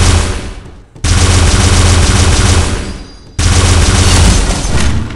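A mythical weapon firing in Pixel Gun 3D: loud, continuous rapid-fire blasts in two long sustained bursts, broken by a brief gap, with no talk over them.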